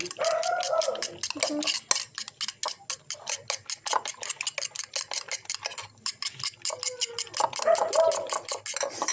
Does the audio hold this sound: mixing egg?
yes